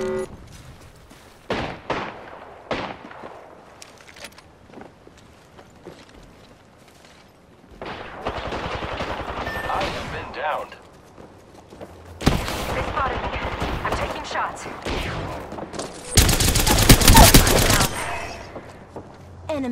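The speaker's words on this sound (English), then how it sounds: "Getting shot at. I am taking fire, friends." Bursts of automatic gunfire from an Apex Legends match rattle in uneven volleys, growing louder and denser toward the end, with brief pauses between exchanges.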